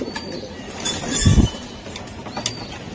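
A single low coo from a racing pigeon rises briefly over soft background noise, with a few faint rustles around it.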